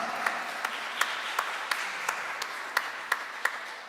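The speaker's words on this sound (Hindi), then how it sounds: "इनके लिए ज़रा ज़ोरदार तालियां।" At a Pakistani community Christmas celebration in an Urdu church, the congregation applauds in a soft, steady patter, with a few louder, sharper claps popping out at a rhythmic pace above the crowd.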